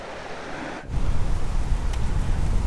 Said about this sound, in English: got a little water moving and nobody around.